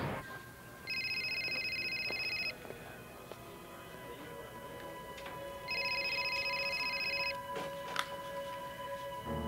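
A cell phone redials after recall is pressed, then gives two long electronic ringing tones separated by a pause, moderately loud over a low background hum.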